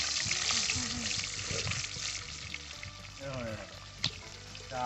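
A Bhola fish frying in a pan in a village kitchen, a continuous crackling sizzle up close, with some clattering and a brief knock near the end.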